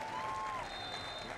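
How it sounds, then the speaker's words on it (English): A football stadium crowd applauds a substituted St. Louis FC player in a match against Bethlehem Steel FC, a steady distant wash of clapping under a faint whistle-like tone. "Got himself a good round of applause from the faithful at the ground"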